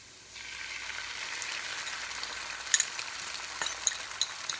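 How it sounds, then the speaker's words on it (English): A single egg hits a very large hot pan and starts frying, the quiet background jumping into a steady bright sizzle with a few crisp pops, fairly soft and unaccompanied by voices. "now we're going to add our one egg to this enormous pan"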